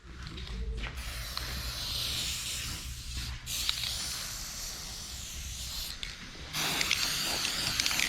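An aerosol can sprays dry lubricant during a kitchen countertop install, giving close hissing bursts: a short one, a long sustained spray, and another that starts near the end.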